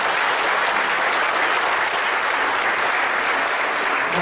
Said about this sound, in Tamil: கைத்தட்டல்களே பரிசா கொடுத்து அவர் இருக்கைக்கு நம்ம உட்காரு